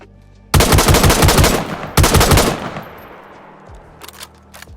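Two loud bursts of rapid SKS rifle fire in the survival game DayZ, each a fast string of close shots with a ringing tail, followed by a few faint clicks.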